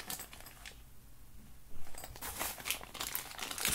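Plastic bubble-wrap bag from a knife's packaging being handled, crinkling and rustling in irregular bursts close by, quieter in the middle and louder toward the end.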